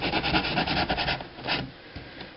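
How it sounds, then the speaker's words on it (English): A foam rock surface being carved and scraped gives off repeated rasping, rubbing strokes in an uneven rhythm, close and fairly loud, then eases into quieter scraping toward the end. "I'm going to try and just carve that away a little bit so I don't have a perfectly flat,"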